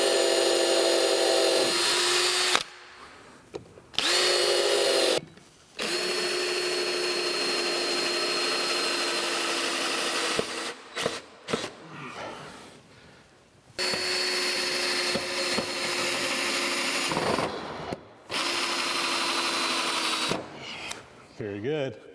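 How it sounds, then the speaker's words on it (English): A power drill with a countersink bit whirs in long, steady bursts separated by short pauses, loud and close, with a few brief gaps where the motor stops and restarts, while working on a model steam engine. "I'm going to come in here with my same drill and countersink as before"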